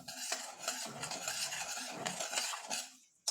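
Whisk scraping and stirring flour and butter into milk in a pot for a lasagne sauce, a quick rhythmic metallic swishing close to the mic, with no voice.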